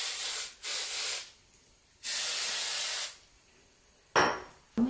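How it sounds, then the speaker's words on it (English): Hairspray hissing from a can in three long bursts of about a second each, then two short puffs, close and alone. "Just need a little bit of hairspray."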